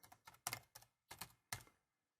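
Close computer keyboard typing in six quick, uneven keystroke bursts, followed by quiet.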